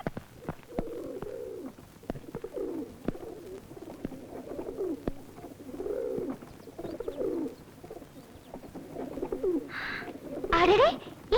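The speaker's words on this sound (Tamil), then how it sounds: "அடடே, இங்க பேர்ட்ஸ் எல்லாம் இருக்கே" Pigeons or doves coo in repeated soft, low phrases at a moderate distance, with a brief louder disturbance and a voice near the end.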